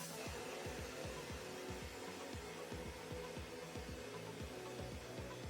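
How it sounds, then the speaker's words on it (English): Titanium being blasted with an abrasive mix of glass bead and aluminum oxide gives a steady, loud hiss of air and grit, with a stream of rapid rattling ticks underneath and no talk. "It has an abrasive mixture in it of glass bead and aluminum oxide. And we're just going to blast this."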